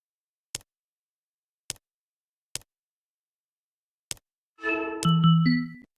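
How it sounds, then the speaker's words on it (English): A dial is turned to open a cannon in a virtual reality app, producing four spaced single clicks followed by a short rising mechanical whir and a low sustained tone, with no talking. "Next, open the cannon by turning the dial to the right."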